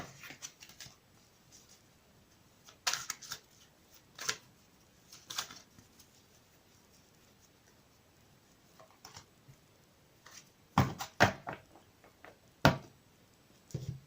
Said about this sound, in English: I'll give them another quick shuffle. They are pretty hard to shuffle.